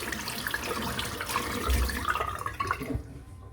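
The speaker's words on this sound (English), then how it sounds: "And just empty the sink out." Water gurgles and rushes steadily as a sink drains out after a head shave, a close, continuous watery trickle and slosh that fades toward the end.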